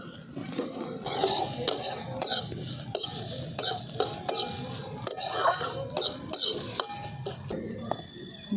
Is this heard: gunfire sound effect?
no